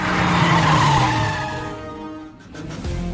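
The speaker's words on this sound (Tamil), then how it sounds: "ராத்தோட் சார், வண்டியை நிறுத்து." A car brakes hard with a loud tire squeal and skid that fades as it slows, ending in a low thump as it comes to a halt.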